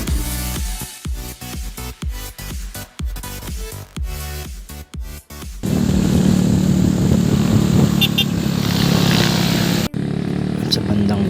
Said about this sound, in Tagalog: talagang sobrang hirap ng makina ng motor ng bawat isa sa pagkakit dahil sobrang tarik at papako pa at paliko-liko yung daan.